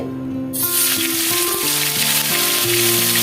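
Cauliflower florets dropped into hot oil burst into a loud, steady sizzle that starts abruptly and holds strong throughout, with faint tonal hum underneath, while vegetables are fried for a Bengali tangra fish curry.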